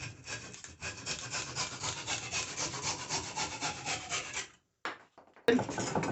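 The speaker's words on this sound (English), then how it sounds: "I do a lot of hand sawing." A hand saw cuts through wood clamped in a Harbor Freight 5-inch vise, with close, steady back-and-forth strokes for several seconds, a brief pause, then sawing resumes.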